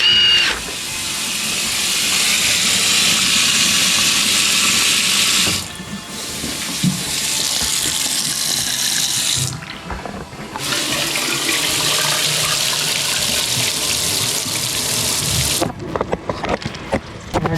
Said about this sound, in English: We're gonna have the clients flush, run sinks, run the showers,